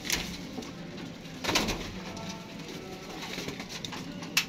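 Golden pigeons on a rooftop coo softly in low, rolling calls, fairly faint, with a few brief rustling bursts between them.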